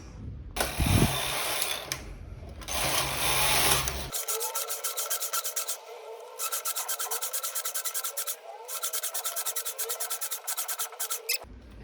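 A knitting machine carriage is pushed across the needle bed to knit a row of a simple sweater, with a rapid, even clatter of needles. Louder rubbing and sliding comes first, then the close rhythmic ticking runs steadily to the end.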